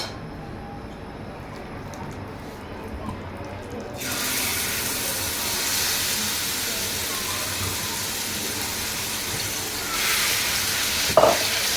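Marinated chicken goes into a hot frying pan. A quiet background gives way to a loud, steady sizzle about a third of the way in, with a brief clatter near the end and some speech.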